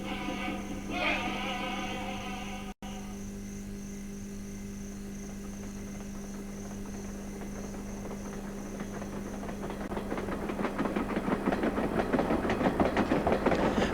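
A train rolls along the rails through Canada, a steady low rumble with a sustained hum that swells louder and rougher toward the end, with no voices.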